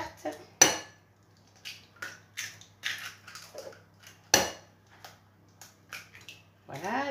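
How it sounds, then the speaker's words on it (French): Three eggs cracked into a dish while making a tart filling, sharp separate cracks and crunches of shell with small clinks against the dish, close by in a quiet kitchen. "Maintenant je vais casser ici mes 3 œufs"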